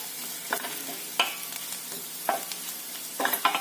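Vegetables with coriander sautéing in a pan for a kurdai bhaji, with onions already salted in: a steady close sizzle broken by about five sharp spatula scrapes and knocks against the pan, with no talking.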